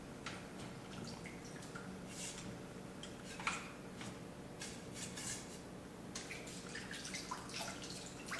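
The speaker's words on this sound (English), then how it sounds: "Always flush some water through it, make sure you're getting all the dirt out." Water being flushed through the pulled-out slides of a trumpet during cleaning, heard as steady splashing and trickling with scattered drips and small knocks against a sink, continuing throughout.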